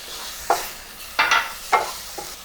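Red chili powder and black pepper are stirred into a pan for drumstick curry, four short scraping strokes over a faint sizzle, close and fairly loud.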